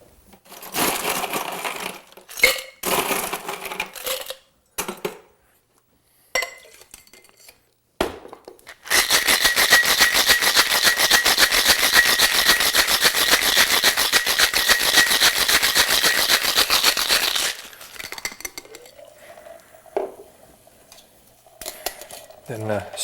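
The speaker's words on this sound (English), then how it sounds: "We're now going to shake this up with ice." Ice rattles hard in a cocktail shaker as a French 75 is mixed, a fast, loud rhythmic clatter sustained for several seconds, preceded and followed by someone speaking and softer clinks of bar tools.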